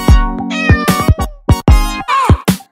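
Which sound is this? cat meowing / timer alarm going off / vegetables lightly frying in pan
cat meowing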